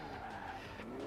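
Car drifting in Forza Horizon 4 gives a loud, continuous skid of tyre squeal over a droning engine, a short steady burst with no voices.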